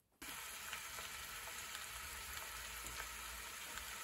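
Pre-seasoned beef short ribs sear in two tablespoons of hot olive oil in a Dutch oven on medium-high heat, giving a steady, close, even sizzle from start to finish with no talking.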